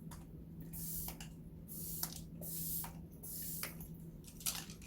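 Several short, breathy mist sprays hiss in quick bursts, close and fairly quiet, over a faint steady hum.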